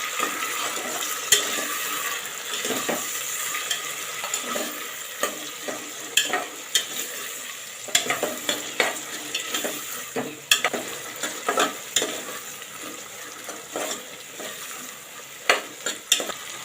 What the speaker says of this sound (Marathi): यामध्ये हे मटार आहेत ते पण घालूया ते पण तेलावर परतून घ्यायचे आहेत